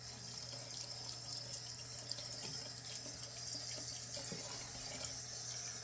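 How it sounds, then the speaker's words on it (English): Tap water runs steadily into a sink while a shaving brush is rinsed under the stream, a constant close splashing hiss over a low hum. "I'm gonna wash this brush out."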